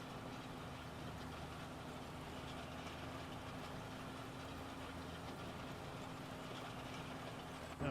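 Tractor engine in Farming Simulator 25 running steadily while seeding oilseed radish, a low continuous drone with a faint tonal hum, constant level throughout with no talk.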